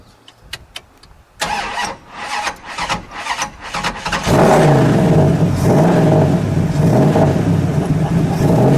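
A 1970 Dodge Challenger drag car engine cranks after a few light clicks, catches with a loud bark, then settles into a heavy, lumpy rumbling idle close by.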